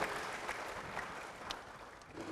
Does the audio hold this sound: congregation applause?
yes